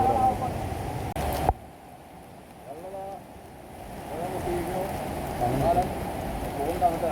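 Rain patters steadily beside the Bharathappuzha river at Pattambi in the morning, with a sharp knock early on and people talking over the constant drizzle.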